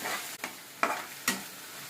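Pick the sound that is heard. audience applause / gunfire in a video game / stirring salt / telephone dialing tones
stirring salt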